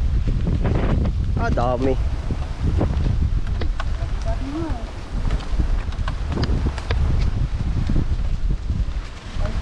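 Strong wind buffets a small boat out at sea, a constant heavy roar of gusts against the microphone while people talk and call out over it.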